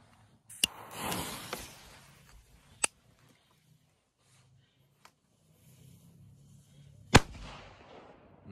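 Dragon Booms firecrackers explode outdoors, with a few sharp cracks spread out in time, the last one loudest and trailing a brief rumble, separated by near-silence.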